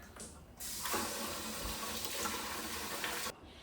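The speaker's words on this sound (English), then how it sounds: "I'm gonna add just a little bit of vinegar." Liquid pours steadily into a bowl of water as vinegar is added to make a vinegar bath for cleaning green beans, a close, continuous splashing stream lasting about three seconds that starts and stops abruptly.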